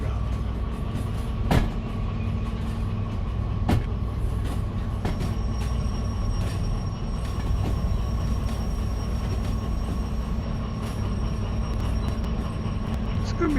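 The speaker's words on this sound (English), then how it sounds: "It's gonna be a pretty long train" A long freight train running in a train simulator game, rolling along as a continuous low rumble with faint wheel squeal and occasional sharp clanks, steady and close throughout.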